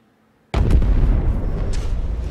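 A MULE self-destructs in a game and detonates against ships: a sudden loud blast after half a second of near silence, then a dense rumbling roar with scattered crackling bursts that holds on to the end.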